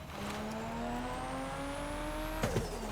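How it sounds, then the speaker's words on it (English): Engine of a new cabin in the Crossout game hums and rises steadily, then a sharp turbo blow-off valve burst sounds near the end, followed by a smaller puff, loud and alone. "this new cabin's engine sound is chef's kiss. The turbo blow-off valve goes."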